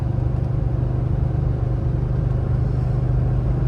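Lifted Toyota Tundra engine pulling a trailer up a steep hill, a steady low rumbling drone with a constant pulsing throb, heard from inside the cab without gear changes.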